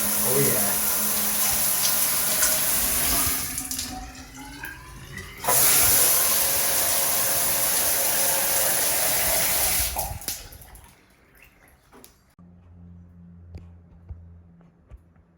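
Water runs from an old 1950s two-handle tub and shower valve under test, gushing loudly, briefly shifting and surging, then cutting off to quiet drips near the end.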